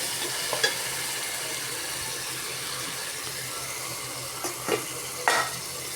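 Tomatoes with ginger garlic paste fry in a pan for a palav, giving a steady close sizzle with a few soft stirring scrapes and clinks near the start and end.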